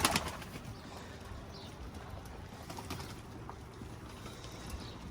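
Pigeons on a balcony where young birds are being raised give soft, low cooing amid faint rustling and flapping, moderately close against steady background noise.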